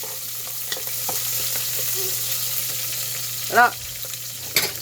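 Chili sizzles as it is sautéed in a cooking pot, a steady, faint frying hiss with a brief spoken word and a short whistle-like sound partway through.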